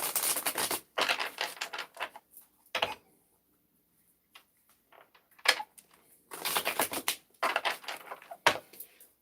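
Bursts of rapid crisp riffling and flicking from close by, separated by pauses with soft taps, like cards being shuffled by hand.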